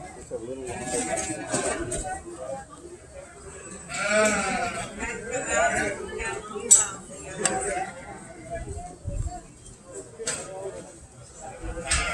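Sheep and ewe lambs bleating at a market lamb show arena, with repeated wavering bleats near and far under continuous announcer talk and background crowd noise.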